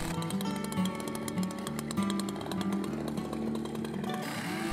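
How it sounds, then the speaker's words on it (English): A chainsaw cuts through a banded bundle of wooden I-joists for floor framing, its loud engine droning steadily close by with a rough, buzzing bite as the chain chews through the wood. "do it all at one shot with a chainsaw"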